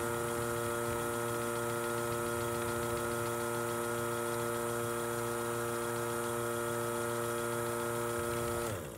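Steady mechanical hum of a vacuum mixer motor mixing dental impression stone at constant pitch, with a vacuum pump drone and vibration throughout, cutting off at the very end.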